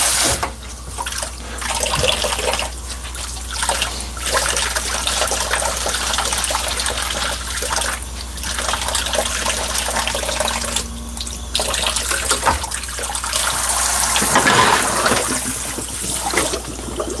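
Tap water runs steadily in a kitchen, a continuous bright hiss and splash close to the microphone, with a few short changes in flow and no talking.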